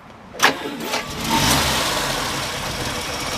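A 1948 Plymouth Special Deluxe sedan engine with a rebuilt carburetor cranks briefly, catches and starts, then settles into a steady, rumbling idle close by.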